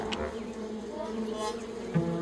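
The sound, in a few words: bees buzzing around hives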